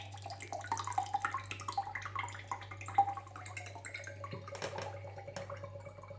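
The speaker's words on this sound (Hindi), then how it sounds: "ये देखें कितना साफ और क्लीन और कितना अच्छा सा इसमें से पानी निकल रहा है" Water draining out of an opened coconut into a glass: faint, irregular trickling and small drips over a constant low electrical hum.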